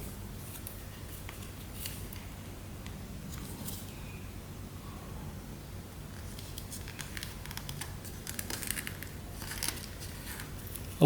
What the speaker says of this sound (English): We make a fold here